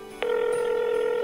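A telephone starts ringing suddenly, a steady electronic tone that holds on evenly and close after a brief faint lead-in.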